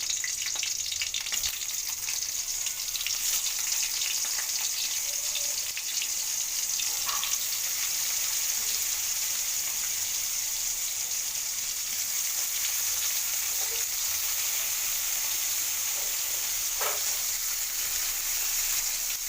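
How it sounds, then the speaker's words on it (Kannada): Marinated potatoes coated in salt and pepper powder shallow-fry in oil, giving a steady, close, loud sizzle that runs unbroken throughout with no voices. "ಆಲೂ ಪೆಪ್ಪರ್ ಫ್ರೈ ಇದು ಆಲೂ ಮತ್ತು ಉಪ್ಪು ಪೆಪ್ಪರ್ ಪೌಡ್ರ್ ಹಾಕಿ ಮ್ಯಾರಿನೇಟ್ ಮಾಡಿಟ್ಟು ಇದನ್ನ ಶಾಲು ಫ್ರೈ ಮಾಡಬೇಕು"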